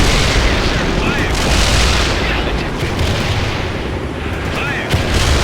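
An Apache helicopter in World in Conflict unloads its weapons on a target, producing dense, continuous, loud gunfire and explosive rumble, with radio voices heard over the barrage.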